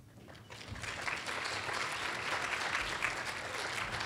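Audience applause at a public health conference on the built environment and affordable neighborhoods, a steady wash of many hands clapping that swells in the first half second and holds full and even to the end.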